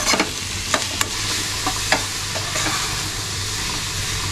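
A spoon stirs food sizzling in a hot pan on the stove, giving a steady frying hiss with a few louder scraping strokes near the start, close and continuous, with no voices.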